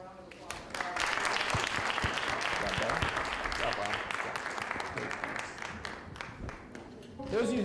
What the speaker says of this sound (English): How about a nice little round of applause?